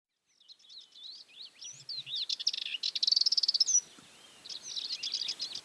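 Several small birds chirp and trill in quick bursts, including a fast run of repeated notes, clear and fairly close over a soft hiss of open countryside near a village; no distinct bee buzz stands out.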